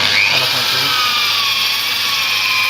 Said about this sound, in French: je prends une perceuse, j'ai monté un disque tampon avec un abrasif de 120 et je fais tourner mon tour tout doucement et je ponce